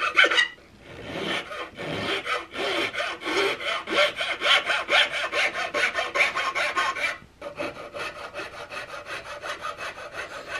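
A half round file rasps along the underside of a wooden rifle stock for a CVA Hawken muzzleloader, giving steady rhythmic strokes up close with a short pause near the end, no talk.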